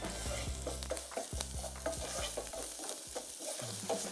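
Tomato paste cooking in a pan, a soft continuous sizzle with light stirring scrapes, heard alone at a low level with a faint low hum underneath.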